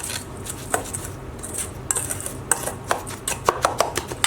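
Spoon scraping and tapping against a bowl while full cream milk is stirred into a mixture, a series of light clinks and scrapes, close and irregular, with no talking.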